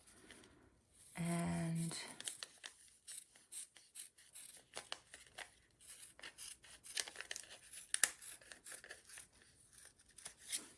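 Sharp snips cut through quilting fabric for a rainbow block, a scatter of small, quiet, crisp clicks and rustles following a brief humming tone near the start.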